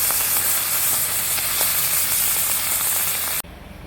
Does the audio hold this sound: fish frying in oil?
yes